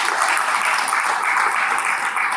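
Audience applause at a book signing event, a dense, steady wash of clapping from many hands, loud and even throughout with no speech over it.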